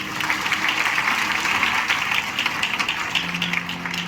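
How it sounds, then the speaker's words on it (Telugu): A crowd claps steadily and loudly in a church during a Christmas celebration, continuous dense applause with a faint voice underneath. "గట్టిగా చప్పట్లు కొట్టాలి."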